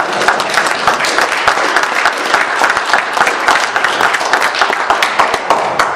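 A room of people at a city meeting applauds Chuck, dense steady hand clapping up close that carries on for several seconds without letup, with no talk over it.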